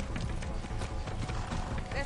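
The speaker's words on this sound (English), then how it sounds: "Be nice, horse." A horse's hooves clip-clop at a steady pace in the video game Far Cry 6, set within a busy, continuous mix of game sound and possible voices.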